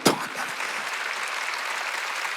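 Applause from a church congregation at an Easter service, opening with a sharp burst and settling into sustained, dense clapping from many hands, steady and fairly loud throughout.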